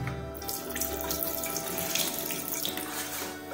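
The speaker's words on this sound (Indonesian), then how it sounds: "Kita siram dulu." Tap water gushes steadily into a bathroom sink being rinsed before scrubbing stains, a close, continuous splashing flow with no voices.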